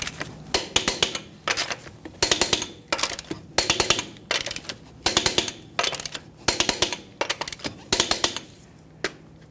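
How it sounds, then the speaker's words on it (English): Lug nuts on a Ford F-150 wheel are torqued in a crisscross pattern, making repeated sharp metallic clicks in quick bursts, about a dozen evenly spaced clusters, close and clear with no talking. "we're going to torque each one of our lug nuts to 150 foot-pounds in a crisscross manner"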